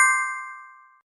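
A single bright notification bell ding rings out clearly and alone, its metallic tone decaying smoothly over about a second into silence.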